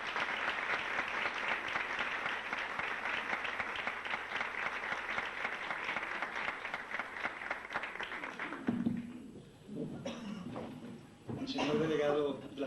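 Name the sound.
applause for lecturer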